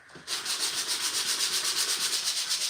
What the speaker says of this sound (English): We'll be sanding all day long.